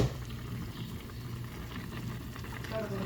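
Pork nilaga broth boiling in a covered pot, a steady close bubbling and simmering hiss that runs throughout, with a voice speaking over it.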